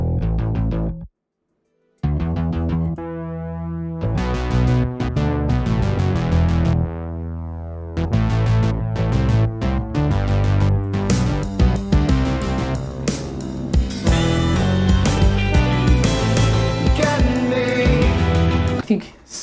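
Stack of seven layered synth basses with a bass guitar in a full pop mix, dense and loud, with a brief dropout near the start and steady driving low end throughout.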